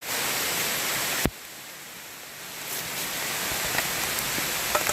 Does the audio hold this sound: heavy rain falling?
yes